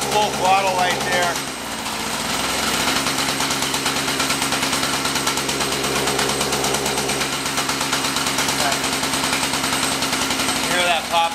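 A misfiring Extreme Scooter XG 550 engine runs close and loud, its buzzing drone riddled with rapid, irregular popping and crackling bursts, steady throughout apart from a short dip early on.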